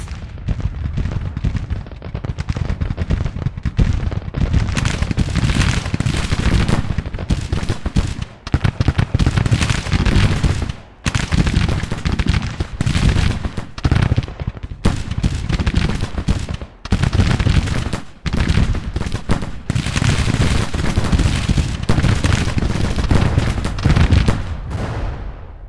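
Dense, continuous artillery booms and crackling gunfire from a Civil War battle in the strategy game Grand Tactician: The Civil War, loud and relentless with brief lulls between volleys.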